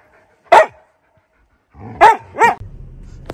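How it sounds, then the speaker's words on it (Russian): Large black-muzzled dogs bark outdoors: one loud single bark, then after a pause two more sharp barks in quick succession, with some low rumbling background noise following. "4 просто здоровые черномордые собаки здесь на выезде."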